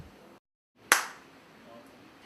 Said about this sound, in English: he can produce a clap sound.